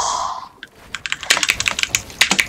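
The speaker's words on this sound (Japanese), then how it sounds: "キーボードのカタカタ音しか聞こえてないよ。" Rapid computer keyboard typing clatters in close, uneven bursts of sharp keystrokes, fairly loud, following a brief tonal chirp at the start.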